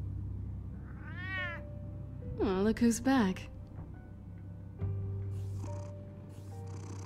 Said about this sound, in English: That's a weird looking cat.